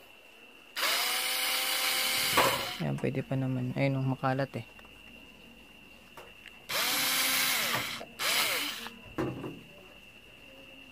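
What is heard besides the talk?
power drill removing screws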